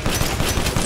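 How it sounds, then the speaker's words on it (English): Rapid pistol fire in Resident Evil Village, a fast string of evenly spaced shots running continuously through the second at a steady, loud level. "this pistol has like no recoil, it's super accurate, and it shoots super fast"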